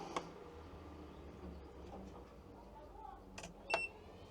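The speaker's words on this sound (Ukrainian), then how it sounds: "Клац, пік, станція запустилася." A Choetech BS005 LiFePO4 power station (1200 W, 960 Wh) switching on, giving a sharp click near the start and a brief electronic beep toward the end over quiet room background.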